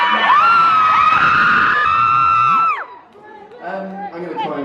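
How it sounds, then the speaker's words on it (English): A London concert crowd screams at the Make Some Noise tour, a loud, sustained wall of high-pitched shrieks that cuts off abruptly and gives way to scattered voices and renewed cheering. "having people scream at you in a good way"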